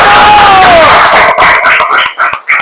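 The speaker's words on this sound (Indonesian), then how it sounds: "Oke, beri tepuk tangan untuk kelompok 1." Classmates clap and cheer for a presenting student group, a loud burst of mixed applause and shouting that breaks into a few sharper claps and calls as it dies down.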